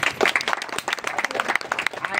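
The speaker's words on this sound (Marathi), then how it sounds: "जोरदार टाळ्या त्यांच्यासाठी" A tour group breaks into loud, sustained clapping at a temple site in Jejuri. The applause is dense and continuous for about two seconds, with some voices mixed in.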